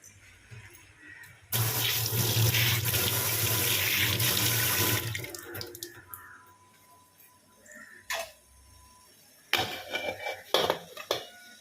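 Hands washed under a running kitchen tap while cooking vada curry, a steady loud gush of water for several seconds, then quieter splashes, clinks of a pot and scattered handling knocks.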